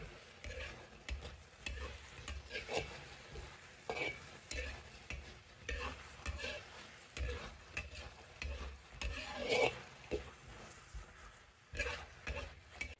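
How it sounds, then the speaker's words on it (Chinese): King oyster mushrooms are stir-fried in a wok with a seasoning sauce, giving steady sizzling and bubbling with repeated scraping and stirring strokes of a spatula up close, no talking. "跟着加入调好的料汁来收汁，继续煸炒至杏鲍菇入味。"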